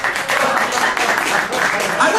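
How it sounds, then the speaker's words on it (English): Audience applause at a comedy show: a dense, steady wash of many hands clapping, loud and close, filling the whole brief stretch without a break. "I wasn't anticipating an applause break"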